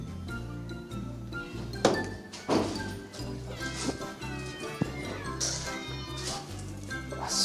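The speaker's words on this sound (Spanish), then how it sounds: "fuimos testigos del tierno alboroto felino que se forma a la hora de servir la comida" Several cats at a cat shelter meow and yowl over each other at feeding time, close and insistent, with occasional thunks and light clinks of dishes, and a person speaking briefly.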